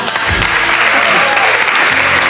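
A television studio audience gives a loud, close burst of applause that carries steadily through the moment, with a voice speaking briefly over the clapping.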